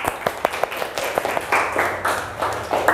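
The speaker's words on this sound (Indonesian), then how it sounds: "Tepuk tangan untuk kita semua." A classroom of students and their teacher clap their hands together after a group discussion, a loose burst of sharp claps with uneven rhythm, fairly close, with some voices mixed in partway through.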